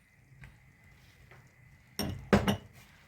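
A spoon knocks and scrapes inside a pot as sweetened coconut flakes are mixed into creamy rice pudding: a few soft, sparse taps, then two louder metallic clanks close together near the end, with no talking.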